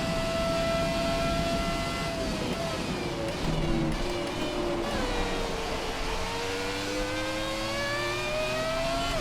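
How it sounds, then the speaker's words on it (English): The Haas Formula 1 car from the F1 2017 video game runs at Suzuka, its engine a steady high-pitched whine that rises and dips with gear changes, continuous and prominent throughout. "let's just appreciate this engine sound"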